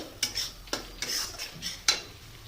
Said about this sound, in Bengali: মশলাটাকে কষিয়ে নিতে হবে।